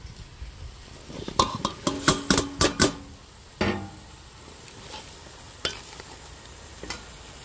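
Eggplant is stirred in a sizzling pan. A quick run of sharp utensil scrapes and clanks over a soft frying hiss gives way to a few scattered stirs later on.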